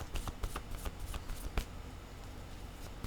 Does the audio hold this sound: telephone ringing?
no